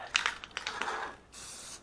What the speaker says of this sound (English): I'm just going to spray it in here